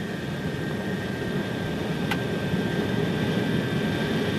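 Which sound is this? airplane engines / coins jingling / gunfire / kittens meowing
airplane engines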